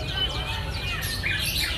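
Several caged white-rumped shamas for sale at a bird shop sing and call nearby, overlapping sweeping whistles and chirps over a low background hum.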